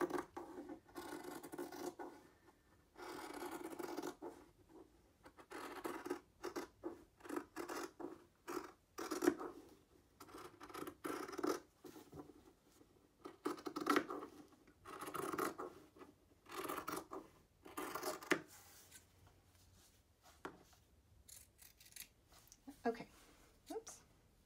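Scissors snip through fabric while a surgical cap is cut out, a run of close, crisp rasping cuts in short bursts with brief pauses between.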